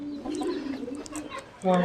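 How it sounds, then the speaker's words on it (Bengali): Chickens cluck at a fancy poultry farm in Muktagacha, Mymensingh, Bangladesh. The clucks are scattered and close, and a voice comes in briefly near the end. "এখানে আরও বেশ কিছু মুরগি আছে দেখতে পাচ্ছেন"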